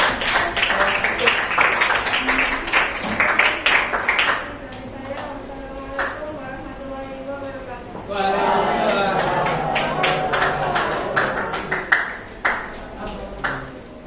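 Students in a classroom clap together in thanks, a dense patter of hands that fades, then rises again later, with voices talking over and between the bursts.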